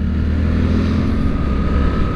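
Suzuki GSX 8S motorcycle from 2023 running with a steady low engine and exhaust drone, continuous and fairly loud, no talking.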